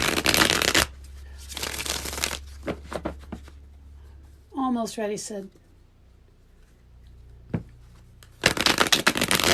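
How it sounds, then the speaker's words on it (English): Tarot cards being riffled and shuffled in several brisk bursts, close and crisp, with pauses between and a person speaking briefly in the middle. "I should have been shuffling this whole time."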